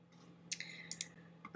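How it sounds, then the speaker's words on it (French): Sharp, quiet computer mouse clicks come in a small cluster, a few crisp taps close together followed by another soft click near the end, over faint background hum. "si je veux le mettre en pleine page, je clique tout simplement ici"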